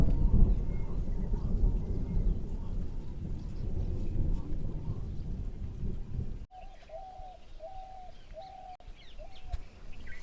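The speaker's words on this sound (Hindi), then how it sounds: "बादल गरज रहे हैं और पानी भी हल्का हल्का गिर रहा है" Low rolling thunder rumbles steadily for about six seconds over a soft wash of light rain, then fades, leaving the rain and a bird's repeated cooing calls.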